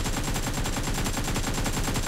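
Continuous rapid gunfire sprays in a mobile shooter game played with an on-screen joystick, a dense unbroken rattle of shots filling the whole stretch with no talking.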